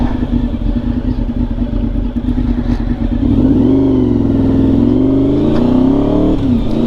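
A replica of the Rumi Honda RC30 that Fred Merkel raced in 1991 is heard on the move, its engine a steady loud drone that swells and rises in pitch partway through as the rider opens the throttle.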